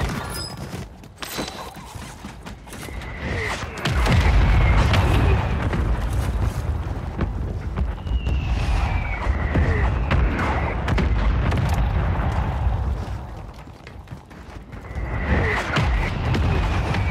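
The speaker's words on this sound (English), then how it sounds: "Friendly mortar strike inbound." Mortar strike in a Call of Duty video game: a heavy barrage of booming explosions rolling continuously, with several sharp impacts at the start and a renewed burst near the end, loud and close, with whistling streaks between hits.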